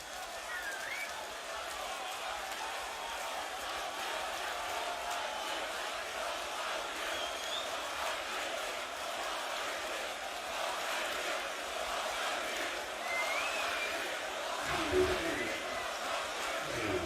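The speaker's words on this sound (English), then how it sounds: "This crowd looks absolutely amazing. Look how huge it is." A huge crowd at the Wacken Open Air 2019 metal festival makes a broad, distant roar that holds steady for a long stretch, with voices talking over it.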